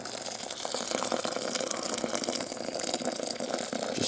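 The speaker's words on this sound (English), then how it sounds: "just fill the bucket up" Boiling water from a kettle pours into a bucket at home for soaking carp particle baits, a close, steady splashing gush lasting a few seconds without talk.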